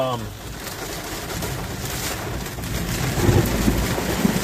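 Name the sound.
close lightning strike thunder in a storm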